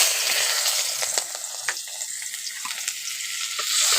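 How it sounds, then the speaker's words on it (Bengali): Chopped onions fry in hot oil with black cumin seeds for a koi fish dish, giving a bright, steady sizzle with a few crackles and stirring scrapes, close and alone. "পেঁয়াজটাকে একটু ভেজে নিচ্ছি।"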